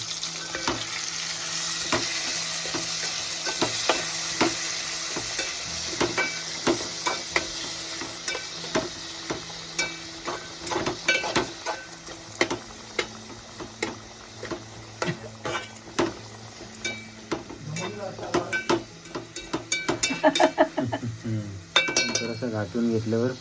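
Clams (kalve) frying in a pan as they are stirred, with a steady sizzle broken by repeated clinks and scrapes of a spoon against the metal; voices talk over it in places.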